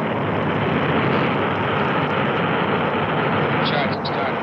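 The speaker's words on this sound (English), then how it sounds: "We have ignition. We have liftoff." Atlas-Centaur rocket lifting off with Surveyor 1 in 1966: a dense, steady broadband roar fills the scene at constant high loudness, with no breaks across the whole stretch.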